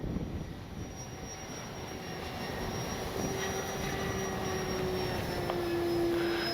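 A small FMS Ranger RC plane flies on its first outing, its electric motor a steady whine that shifts in pitch as it passes overhead, fairly distant against faint outdoor background noise, with no talking.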